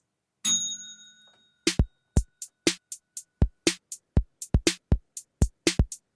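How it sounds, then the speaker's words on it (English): A bell rings once with a clear, decaying ding, and then a rapid series of sharp, dry clicks or taps follows close by, with no talking. "I'm going to ding the bell"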